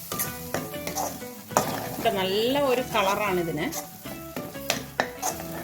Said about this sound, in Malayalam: എല്ലാം കൂട്ടിയിട്ട് നല്ലതുപോലെ ഒന്ന് മിക്സ് ചെയ്യണം.